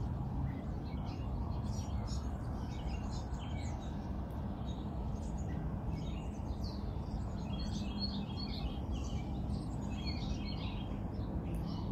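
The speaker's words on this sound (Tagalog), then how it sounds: "naririnig nyo ba ang huni ng mga ibon na parang kumakanta sa tuwing umaga" Wild birds singing outdoors on a cool morning, with many faint chirps and tweets repeating over a steady background hush and no voices.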